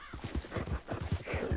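Horse hooves clip-clop in a quick, even rhythm in Red Dead Redemption II Online, a steady run of low thuds at moderate distance with a faint whinny-like tone above.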